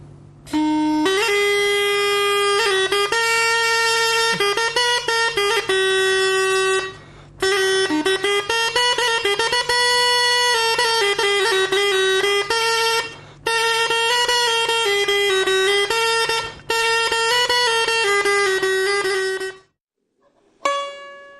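A loud, buzzy single-reed wind instrument with a gourd chamber, sounding like a surna, plays a lively melody in sustained, piercing phrases separated by brief breaths, with no talking.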